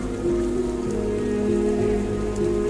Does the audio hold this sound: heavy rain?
yes